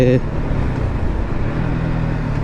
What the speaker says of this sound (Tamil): ஓகே, ரா சவுண்டு பார்க்குறீங்களா? ஓட்டும் போது எப்படி இருக்குன்னு பாருங்கள்.